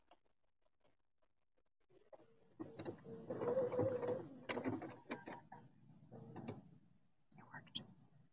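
A sewing machine with a walking foot stitches a seam on a soft robe, quiet at first and then a rapid mechanical whirr with clicking bursts, pausing and restarting, under quiet talk.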